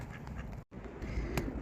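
A pair of ducks quack near water outdoors, the calls moderately loud over a steady, noisy background with one brief dropout, and no talking.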